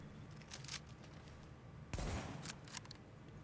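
Custom M44 marksman rifle fired in The Division, faint distant-sounding shots with a cluster of punchy reports near the middle and a few scattered cracks after, over quiet game ambience.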